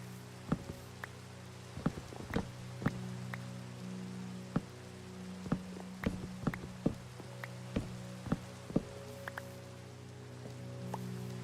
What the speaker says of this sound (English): I should really just turn off rain, so I don't have to worry about it.